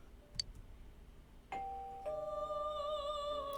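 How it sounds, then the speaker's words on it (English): Doorbell chime from the video game Persona 4 Golden: a faint click, then a clear two-note ding-dong with ringing tones sustaining over quiet room ambience. "You hear the doorbell ringing."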